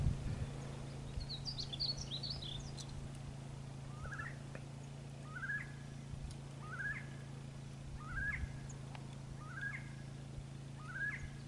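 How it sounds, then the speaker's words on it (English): On a ranch, a bird with an unusual call repeats a short rising note about six times at an even pace from a moderate distance. Higher chirps from other birds come early, over a steady low rumble. "You can hear that bird over there."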